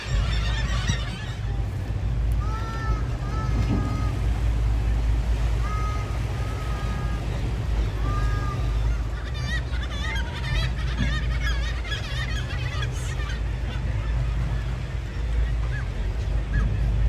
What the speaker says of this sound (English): we floated by a nesting site for gulls, common murres, and puffins.